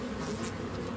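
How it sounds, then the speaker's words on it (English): Cartoon bee buzzing in an animated My Little Pony scene, a continuous steady drone lasting about a second, close and moderately loud, with no talking over it. "Perhaps a bee?"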